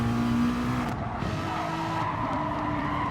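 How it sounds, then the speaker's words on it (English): Race car engine in a GT touring car race at Autopolis in a racing game, revving unevenly as the throttle is pumped and feathered through corners, steady and close with tire noise underneath. "Funny sound from Street Boy's throttle there. Sounds like a really pumping the throttle"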